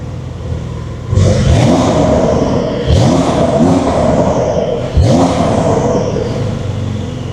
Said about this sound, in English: I'll pop it in sport so that we get the crackles as well.